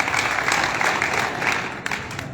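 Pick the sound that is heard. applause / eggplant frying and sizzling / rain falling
applause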